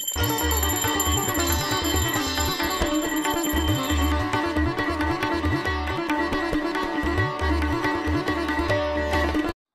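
A bright metallic hand bell rings steadily and continuously, loud and close, over a repeating low rhythmic thumping, during a Gauri immersion procession to water in Konkan, with no talking.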